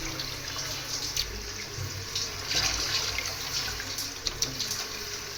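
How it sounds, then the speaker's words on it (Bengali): A kitchen tap runs steadily while fish pieces are rinsed, a moderate splashing stream with brief louder spatters as the water hits the fish and sink. "মাছগুলো এখন আর কি উঠাবো, ভালো করে একটু ধুয়ে নিই"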